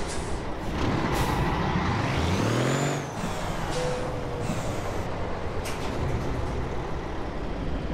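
A Freightliner FLD 120 truck in American Truck Simulator releases its air brake with a loud, close hiss over the low idle of the engine, then settles back to a steady rumble.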